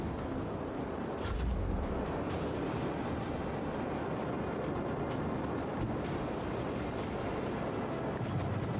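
Torpedoes launching in the space combat of Warhammer 40k: Rogue Trader, a heavy rushing, rumbling burst early on that settles into a sustained dense roar of ship and battle noise.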